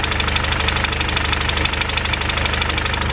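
A VW MK7 Golf R engine with a broken spool valve idles with a steady, rapid tapping, a close and continuous mechanical ticking over the engine's constant hum, with no talking.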